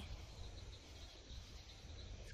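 Insects chirping at night in a quiet outdoor setting, frogs also present, a soft continuous trill with a thin high whine above a low rumble, faint and distant throughout.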